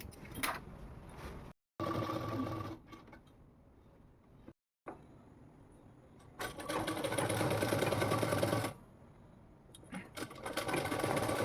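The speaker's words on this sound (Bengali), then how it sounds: "এইভাবেই আমি গোটা পাটটাই সেলাই দিয়ে নিচ্ছি" A sewing machine stitches a fall onto a saree border in bursts, its rapid mechanical whirr starting and stopping between quiet pauses, close up and steady while running.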